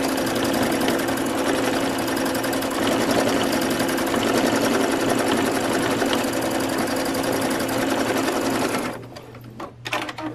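A sewing machine stitches a patch onto a pair of jeans, its rapid needle chatter running loud and continuous for about nine seconds before stopping, followed by a few faint handling knocks.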